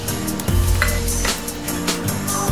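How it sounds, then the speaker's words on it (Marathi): Chopped garlic sizzling in hot ghee in a pan for dhaba-style dal tadka, a steady close frying hiss with occasional clinks and stirring scrapes. "आता आपण कापलेला लसूण टाकूया।"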